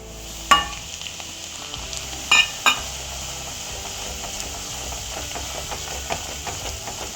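Wheat flour is stirred in melted ghee in a pan over a medium flame, making a low steady sizzle with a few sharp clinks of the utensil against the pan and soft scraping throughout.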